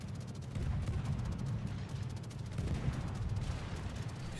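Kitakaze destroyer guns firing in World of Warships: a rapid, continuous stream of booming shots with heavy low rumble, evenly repeated salvos throughout.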